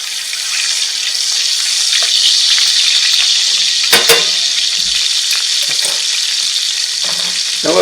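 Steaks sizzle loudly and steadily in a hot pan after being flipped, with a couple of sharp knocks and brief clatters from the turning, close and continuous.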